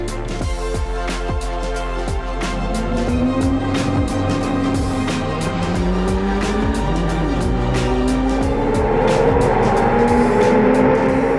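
Race cars starting the second race on the Dijon-Prenois circuit in late afternoon, a loud continuous roar of several engines revving and shifting, with rising whines layered over one another and sharp crackles and pops throughout.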